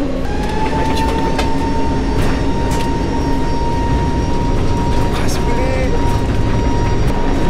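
Inside an airplane cabin while the aircraft taxis along the runway: a loud, steady engine rumble and whine with a constant hum runs unbroken throughout, with faint rattles.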